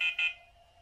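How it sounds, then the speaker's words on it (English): An M2ED thermal camera's temperature alarm gives two quick bright beeps in succession, the second followed by a fading electronic ring-out, close and alone. "that's how you can see it's alerting and it shows you the temperature it is"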